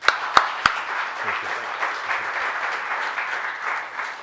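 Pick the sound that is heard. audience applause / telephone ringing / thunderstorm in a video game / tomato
audience applause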